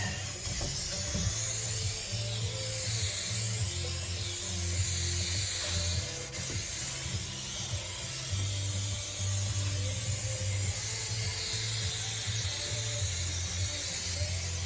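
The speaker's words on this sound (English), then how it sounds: "We're going to spray across the ceiling, and we're going to spray on the insulation and stick it up." A steady, continuous hiss of spray adhesive being sprayed across a van ceiling runs throughout, with a low motor hum underneath and no pauses.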